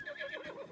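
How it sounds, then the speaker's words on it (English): A white horse in The Legend of Zelda: Breath of the Wild video game gives a short, faint whinny lasting under a second. "there's a pure white horse"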